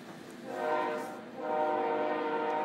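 A train horn blows two sustained, steady tones, the first swelling then easing before a second long blast follows, fairly loud with no talk over it.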